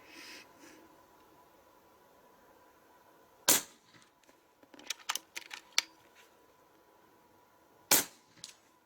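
A Hatsan Factor RC .22 (5.5 mm) PCP air rifle fires two sharp, loud cracks several seconds apart, with a cluster of lighter clicks and knocks between them in an otherwise quiet outdoor setting.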